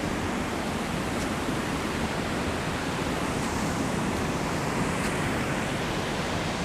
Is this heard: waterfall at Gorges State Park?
yes